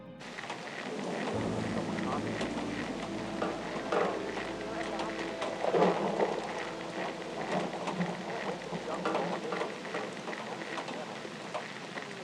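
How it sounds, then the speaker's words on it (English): Steady rain with deep rolling thunder in the game Whispers of a Machine, a continuous hiss carrying low rumbles that swell around the middle, with a voice talking faintly underneath. "There's rain throughout."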